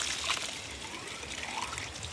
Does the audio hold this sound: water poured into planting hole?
yes